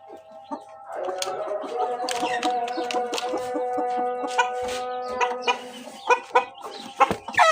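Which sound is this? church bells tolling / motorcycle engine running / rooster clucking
rooster clucking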